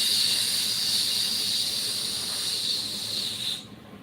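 A steady, bright white noise hiss runs continuously for a few seconds, then abruptly drops away near the end.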